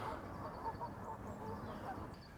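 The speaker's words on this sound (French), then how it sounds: "Une petite oie bernache." A single barnacle goose honks faintly and at a distance, with soft, repeated calls over a steady bed of outdoor background noise.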